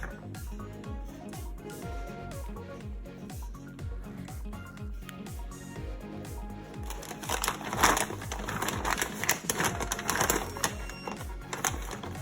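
Walnuts sealed in a plastic bag are pounded with a small tool in a kitchen, a steady series of rhythmic thuds and crunches growing louder and more crackly with rustling plastic toward the end.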